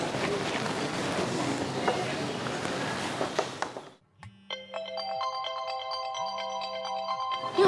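Noisy ambient crowd sound cuts off, then an electronic phone ringback melody plays clearly with a repeating low tone, before the background noise returns.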